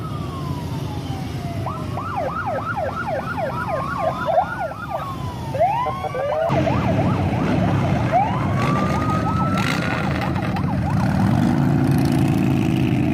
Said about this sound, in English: Police escort.